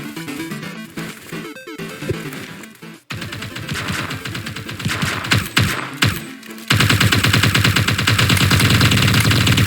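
Rapid bursts of automatic gunfire and explosions from the mobile game Vortex 9, dense and loud, growing into a constant hammering barrage toward the end.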